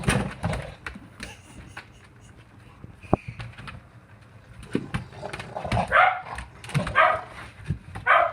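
A deaf dog barks and yips in several close, loud bursts that become more frequent toward the end, with soft background noise and a few quick sounds from the owner.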